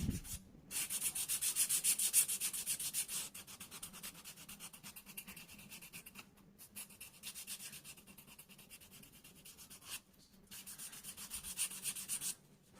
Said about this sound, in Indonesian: Makanya untuk proses amplas itu nggak perlu terlalu ditekan, cukup digesek pelan aja.